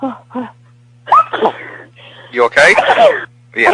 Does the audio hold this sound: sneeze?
yes